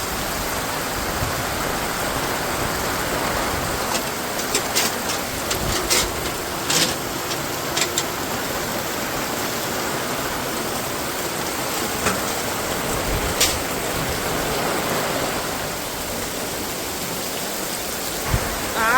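Heavy rain falls steadily on a village, a dense, loud wash of noise with occasional sharper drops and patters throughout, and no talk.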